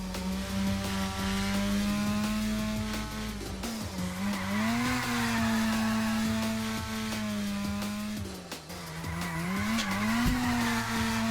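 Tires squealing as a race car drifts through corners in a fan-made Initial D touge video game, a long continuous screech over a steady engine drone that rises and dips as the car slides, loud and near.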